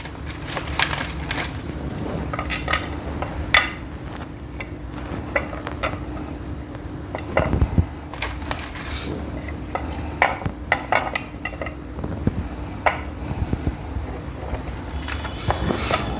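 Crisp puris for sev batata puri being set out on a plate, with light clinks, taps and crunchy knocks in an irregular rhythm, close by and fairly quiet, with no talking.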